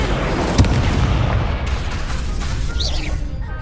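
An Incendio fire spell goes off in the Hogwarts Legacy video game, a booming burst followed by a roaring, rumbling fire blast that fades away over a few seconds, loud and close.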